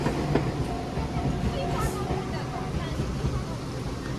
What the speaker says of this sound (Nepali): यो चाहिँ सानो बस जस्तो ट्रेन हो साथीहरू मोनोरेल